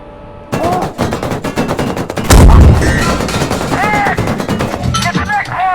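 Tank gun combat in GHPC: rapid bursts of machine-gun fire crackle throughout, with one heavy booming cannon shot standing out midway, loud and close.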